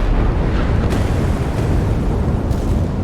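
Missiles strike warships in the naval combat game Sea Power, producing a loud, continuous roaring rumble of explosions with a couple of sharper bursts inside the dense blast noise.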